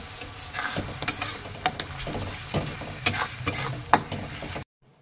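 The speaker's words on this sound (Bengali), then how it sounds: "আবারও আমি মশলাটাকে ভালো করে ভেজে নেব" Ginger-cumin paste with coriander and Kashmiri chilli powder frying in a pan for potol chingri, busy sizzling with rapid scraping and clacking spatula strokes, close and fairly loud, ending abruptly in silence.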